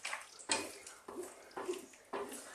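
Sausage and bean stew stirred in a pot, a few separate scraping swishes spaced about half a second apart, close and fairly quiet with no talk.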